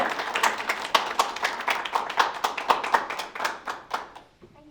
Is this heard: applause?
yes